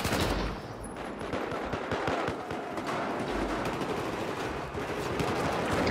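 M249 light machine gun in Battlefield 4 firing long, loud, sustained bursts of rapid automatic fire with a few brief pauses, dense close-up gunfire throughout.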